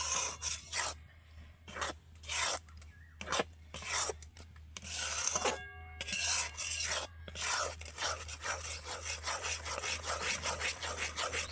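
Semolina barfi mixture with sugar syrup is stirred steadily in a pan over low heat, giving repeated scraping, rubbing strokes in an uneven rhythm, close and fairly loud, with no voices.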